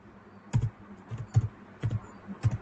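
A handful of separate key taps on a computer keyboard, sparse and irregular, each a short soft double click, close by in a quiet room with no talking.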